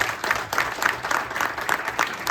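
Steady applause from an audience at Jaipur Angel Resort, many hands clapping evenly without a break, dense and fairly loud throughout.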